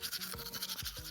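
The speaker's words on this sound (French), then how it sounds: "attrape ta brosse à dents, ton dentifrice, et tu frottes jusqu'à ce que l'histoire soit terminée" Toothbrush with toothpaste scrubbing teeth, giving a steady close-up scratchy rasp with quick back-and-forth strokes through a brief moment, with no talking.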